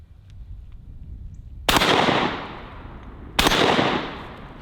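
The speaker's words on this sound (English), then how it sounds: "let's just start with some birdshot and see what this thing feels like" Two sharp, loud blasts from a light double-barrel shotgun firing birdshot outdoors, spaced under two seconds apart, each with a quick crack and a decaying echo tail.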